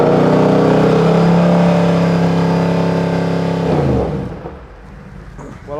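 Abarth 124 Spider engine revving hard and loud, a sustained climbing rasp with strong harmonics that holds for about four seconds, then drops sharply as the revs fall away, with a brief blip at the end.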